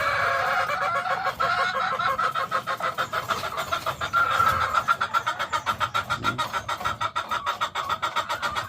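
Breeding hens of a Philippine gamefowl bloodline cluck steadily at close range, a dense rhythmic stream of short calls over constant background noise, without a voice.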